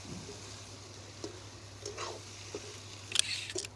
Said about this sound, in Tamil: இது நல்லா கிண்டி விடணும், அந்த மசாலா சேர்கிற மாதிரி கிண்டணும்